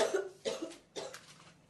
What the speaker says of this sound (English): This is coughing.